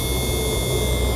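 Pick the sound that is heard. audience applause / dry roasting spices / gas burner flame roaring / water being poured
gas burner flame roaring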